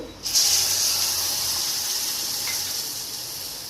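Milk poured into hot, browned, roasted semolina sets off a sudden loud sizzling hiss that slowly fades while staying steady, with no voices heard.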